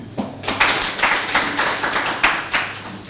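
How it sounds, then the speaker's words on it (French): Crowd applauding at a political rally in Doropo, in Côte d'Ivoire's Bounkani region: a dense, steady wash of hand claps from a large gathering, fairly close, swelling in a few bursts over the stretch. "applaudissez pour vous-même"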